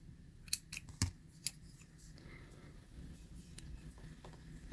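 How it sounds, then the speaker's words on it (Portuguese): Scissors snip crochet yarn in a few quick, close, quiet cuts with soft clicks, then a pause and some light handling noise. "posso cortar o fio"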